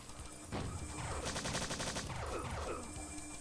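Machine gun fire in the retro video game Strife, a rapid, loud stream of close shots rattling along steadily for a few seconds with no talking.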